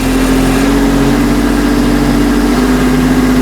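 Tractor engine with a ROPS frame and box blade, held steady at about 2,000 RPM, giving a loud, continuous, even drone with a low hum and no talking.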